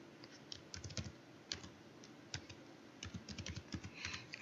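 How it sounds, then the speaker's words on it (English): Quiet typing on a computer keyboard while naming a folder: irregular bursts of soft key clicks, close and light, with brief pauses between runs of keystrokes. "I'm done typing."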